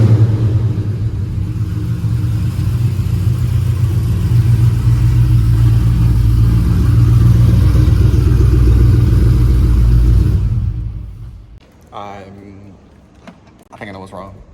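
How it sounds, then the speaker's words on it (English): Dodge Scat Pack with the 392 Hemi V8 firing up cold, a loud, deep sustained rumble that swells and holds steady for about ten seconds before cutting off, followed by a few brief bangs and clicks in near quiet. "Let's get us a nice little cold start"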